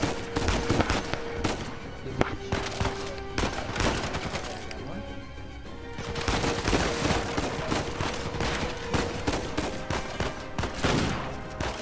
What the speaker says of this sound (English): Ooh, that shotgun, dude.